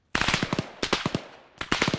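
Rapid automatic gunfire from Arma 3 comes in three quick bursts of several rounds each, sharp and fairly close, with short gaps between bursts and no talking.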